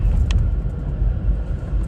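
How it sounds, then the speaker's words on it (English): A car rolls past close by, a loud continuous low rumble of engine and tyres with faint jingling on top, heard alone with no talking. "okay, car."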